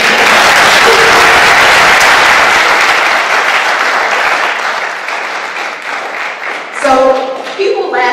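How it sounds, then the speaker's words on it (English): An audience at a township mayor's State of the Township address in Hillside, New Jersey breaks into loud, sustained applause that gradually thins and fades before a single voice starts speaking over the last claps. "You can clap."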